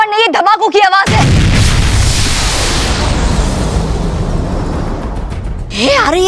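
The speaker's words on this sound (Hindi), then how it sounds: "ये धमाकों की आवाज है" A loud blast erupts suddenly, followed by a long rumbling roar of explosions that slowly fades, with voices heard briefly before and after.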